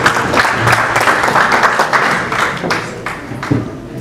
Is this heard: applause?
yes